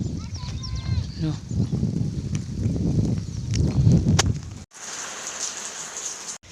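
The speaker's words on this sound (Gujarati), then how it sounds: "વરસાદ થઈ ગયો ચાલુ" Heavy rain pours down in a Gujarati village during a stormy spell, a dense steady wash of sound heard under people talking, then the rain continues alone after a sudden cut.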